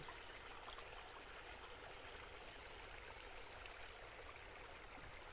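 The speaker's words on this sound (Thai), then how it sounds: "แล้วก็จะมี ทางน้ำไหลผ่านด้วยนะครับ เป็นน้ำตกเล็ก ๆนะครับนี่ครับ" A small indoor waterfall runs through a bakery cafe in Mae Rim, Chiang Mai, giving a steady, soft, continuous trickle and splash of flowing water with no voices.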